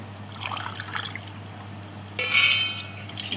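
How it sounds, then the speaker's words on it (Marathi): Quiet trickling and dripping, then a brief louder gush of water pouring into a vessel, close by with no talking. "त्याच्यात आपण पाणी घेऊया"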